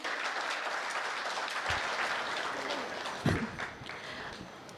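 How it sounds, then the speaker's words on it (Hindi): An audience at a Hindi poetry recital applauds to welcome the poet Neha Sharma Naman to the stage, a loud, continuous roar of clapping that holds steady for several seconds with a few sharper claps standing out. "एक बारी जोरदार तालियां बजाइए"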